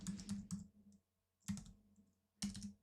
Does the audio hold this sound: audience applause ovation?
no